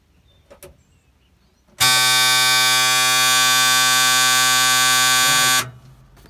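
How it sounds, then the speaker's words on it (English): After a few faint clicks, a harsh low-air-pressure warning buzzer on an M756A2 military pipeline truck blares at one steady pitch for nearly four seconds, loud and close, then stops abruptly. "We got low air buzzer."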